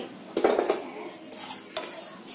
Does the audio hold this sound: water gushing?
no